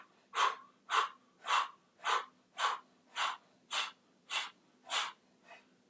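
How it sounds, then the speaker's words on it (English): Ten quick, forceful breaths blown out through the mouth during a breathwork exercise, evenly spaced about half a second apart, close and clear with no talking, the last one fainter. "we're going to do 10 quick blow breaths"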